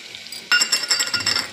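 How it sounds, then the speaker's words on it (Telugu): Spices such as turmeric, chili, salt and coriander powder being stirred into mutton paya curry frying in oil, heard as a sudden sizzle followed by a few metallic clinks of a spoon against the pan, close up with no voices. "ఉప్పు, ధనియాల పొడి అంతా వేసుకొని బాగా కలుపుకోవాలి"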